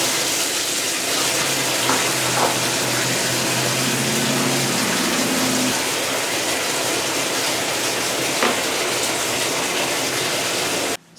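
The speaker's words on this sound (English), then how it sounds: "So I'm going to start filling up the bathtub with room temperature water" A bathtub fills with room-temperature water from the tap, a steady, loud, continuous rush of running water lasting throughout, with a couple of faint knocks and no talking.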